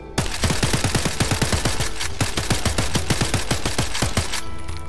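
A gun magazine is emptied in the VR game Blade & Sorcery, a rapid string of loud, close gunshots firing in steady automatic bursts for several seconds with no talking.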